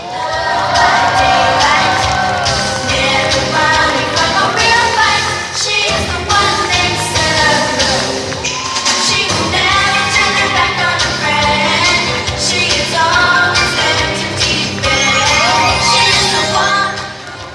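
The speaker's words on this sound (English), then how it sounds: "Give another round of applause for the Highness herself." A loud crowd at a comic and pop culture convention cosplay contest claps, cheers and whoops steadily for a costumed contestant, with shouts rising over dense continuous applause.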